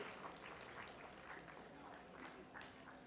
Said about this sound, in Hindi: जोरदार तालियां होने आदरणीय आचार्य के लिए।